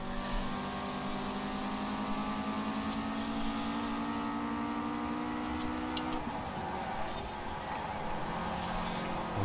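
A 1998 Nissan Silvia S14 in a racing video game accelerating hard, its engine holding a steady droning tone that climbs in pitch, then drops briefly at a gear change before rising again.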